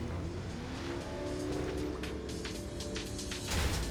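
Porsche sports car driving in the video game Neverness to Everness, a continuous engine drone with revving, shifting tones and brief tire noise, steady and close with no voices.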